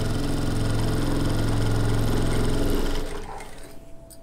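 A sewing machine stitches elastic into a palazzo waistband, a loud steady mechanical whirr with rapid needle rhythm that runs for about three seconds before stopping, leaving faint handling noise.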